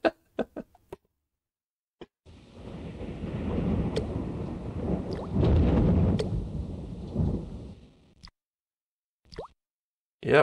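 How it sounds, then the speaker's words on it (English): Rain and a long rolling thunderclap in the video game Noah's Ark: several seconds of deep, swelling rumble over hissing rain, framed by sharp isolated clicks and pops before and after. "Yep, there is rain."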